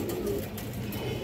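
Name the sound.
red Muslodom female pigeon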